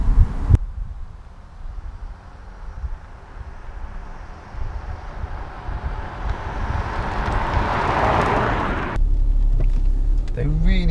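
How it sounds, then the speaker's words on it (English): A Jaguar XJ Portfolio approaches and passes by, building from a low rumble into a louder whoosh of engine and tyre noise, then cuts to closer wind and road noise. "Well, maybe a drive-by."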